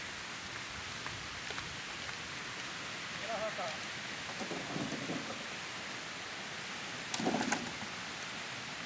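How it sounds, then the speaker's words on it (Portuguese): Rain falls outdoors in the Brazilian northeast near a creek, a steady broadband hiss throughout, with a voice speaking briefly and a few louder bursts. "a chuva tá encostando"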